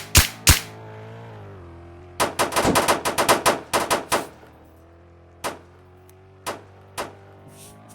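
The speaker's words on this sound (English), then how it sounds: "Why am I hearing gunshots already?" Sharp video game gunshots crack out: a couple of single shots, then a rapid burst of automatic fire, followed by scattered isolated shots with quiet gaps between.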